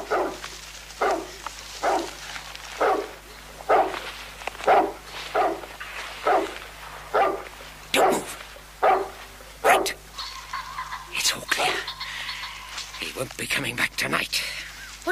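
A dog barks in a steady run of a dozen or so evenly spaced barks in a story reading of Roald Dahl's Danny the Champion of the World. The barks are close and clear, and a voice joins near the end.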